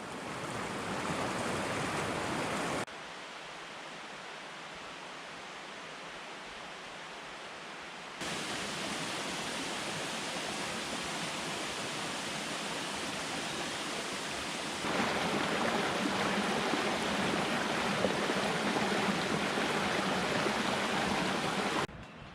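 Steady, broad rushing of the fast-flowing Linville River in the Linville Gorge, swollen after heavy rain, continuous and fairly loud, with the level shifting in a few abrupt steps.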